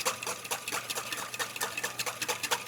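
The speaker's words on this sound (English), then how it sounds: "So I'm continuing in that slow, steady stream while whisking to maintain the emulsion." Rapid rhythmic whisking of oil into a vinaigrette in a bowl, quick steady metallic clicks and swishes close by with no talking.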